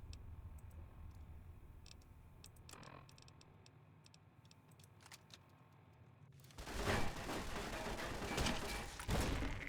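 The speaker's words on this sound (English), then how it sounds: "Let me use the grenade launcher." Grenade launcher firing in the video game Fallout New Vegas: quiet clicks and scattered shots give way to a sudden loud, sustained burst of blasts and explosive noise over the final few seconds.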